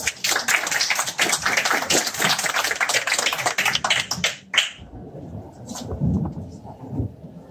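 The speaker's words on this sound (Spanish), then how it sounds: "recibimos con aplausos a la profesora Edith Prato" An audience gives a professor a round of dense, steady applause that fills the room for about four seconds, then stops abruptly, leaving faint room noise and a low voice.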